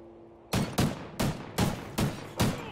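Rapid volley of six loud video game gunshots, evenly spaced about every third of a second, each a sharp crack with a short decaying tail, heard alone with no talking.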